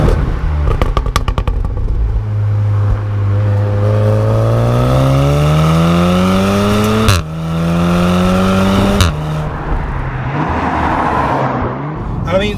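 A modified VW Golf R Mark 7.5 with quad exhausts and a resonator delete revs hard, its engine tone climbing steadily in pitch, dropping briefly, then rising again, loud and close, with a short crackle at the start.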